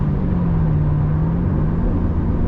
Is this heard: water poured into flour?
no